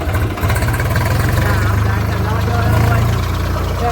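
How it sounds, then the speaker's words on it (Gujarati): A low, steady engine idles with a throbbing chug, close by, while people talk over it. "આપણું ટ્રેક્ટર આવી ગયું છે ને"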